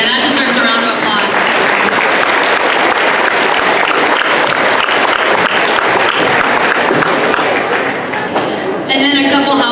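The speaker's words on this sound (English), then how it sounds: "that deserves a round of applause" Sustained applause from an audience at an elementary school spring concert fills the room, loud and dense throughout, with some voices mixed in and a brief dip near the end before clapping swells again.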